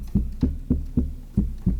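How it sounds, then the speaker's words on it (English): Six short, dull sampled piano hits repeat in an even rhythm, each with a quick attack and fast decay, close and dry. "a sample of the piano hit that I recorded"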